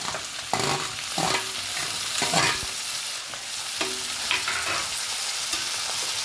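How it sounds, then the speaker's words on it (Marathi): Diced bell pepper, cut into large even squares, stirred and frying in hot oil in a pan for veg chilli: steady sizzle with repeated scraping stir strokes, close and alone. "आता आपण ह्याच्यात भोपळी मिरची टाकूया"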